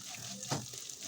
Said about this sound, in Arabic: هنا بقى هحمر الشعرية برضو. حطيت زيت، ولما الزيت سخن حطيت ايه الشعرية